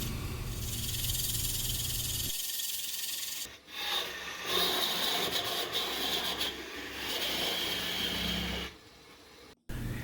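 Wooden lamp part for an antique Texaco gas pump lamp being sanded while spinning on a wood lathe, a steady close rubbing rasp that runs continuously with brief dips and changes in pressure.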